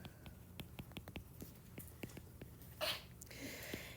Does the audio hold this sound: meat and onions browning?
no